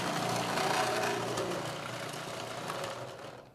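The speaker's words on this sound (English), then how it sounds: "I'm gonna actually grate this in a food processor" A food processor with a grating attachment shreds celery root, giving a steady, close, dense whirring grind that eases slightly toward the end.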